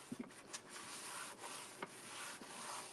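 Quiet rhythmic rubbing of sandpaper on a surface, a few scratchy strokes with small knocks in between, close and unaccompanied by talk.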